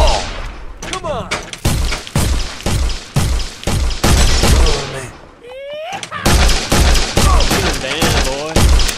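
Gunfire in a VR western saloon showdown game: a rapid series of sharp shots and thuds spread through the clip, mixed with a voice talking and shouting over the action.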